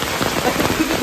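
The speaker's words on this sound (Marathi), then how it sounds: "पाऊस पण आलाय" Rain patters steadily on outdoor surfaces beside a village wood-fired cooking stove, a dense, even hiss of drops close by.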